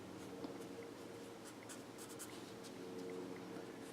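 Pen tapping and scratching short dotted lines onto paper, a soft continuous run of quick strokes close up and alone.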